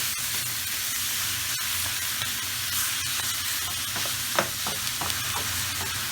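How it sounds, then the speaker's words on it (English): Beef mince stirred and browned in a pan for a British cottage pie, with a steady hissing sizzle and occasional scraping taps of the spoon, close and with no voices. "Now we just want to mix this and give it some colour."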